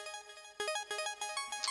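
A high-pitched synth pluck plays a quick stepping arpeggio with no effects added, clean bright tones entering after a brief quiet start and running in a steady rhythm.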